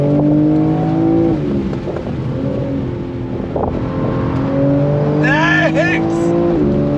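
A 2022 BMW M4 convertible engine drones and shifts pitch under throttle, rising and falling continuously, with a brief high squeal near the end and voices mixed in.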